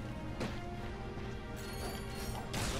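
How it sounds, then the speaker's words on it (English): Crates smashed open in the Ratchet & Clank video game: a few sharp crashing breaks, near the start and again near the end, over a steady bed of game sound. "Look at him smashing crates"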